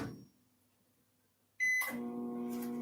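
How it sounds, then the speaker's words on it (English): An old microwave oven heating a cup of water runs with a low steady hum, then gives a loud electronic beep, followed by a brighter rattling whir as it keeps going. "So you use old microwave to get it hot."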